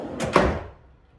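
A drawer in an old wooden chest with Roman numeral labels, in a historic Santa Fe hotel casita suite, slides shut softly with a short muffled thud that quickly fades to quiet.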